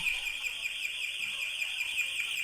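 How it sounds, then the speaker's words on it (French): A shrill, continuous intrusion alarm sounds at a steady high pitch with a slight pulsing warble, heard at moderate distance over quiet background. "là, il y a une alarme anti-intrusion"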